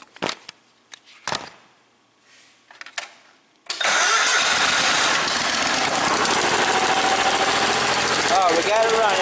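A Cub Cadet 4WD tractor engine cranks in a few short bursts, then starts and roars into a loud, steady run nearby, with some speech around the start.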